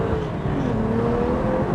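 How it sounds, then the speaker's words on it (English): A BMW 1M Coupe's M engine accelerating, a steady loud drone heard from inside the car with a rising engine tone over road noise. "Sounds like an M engine, you know?"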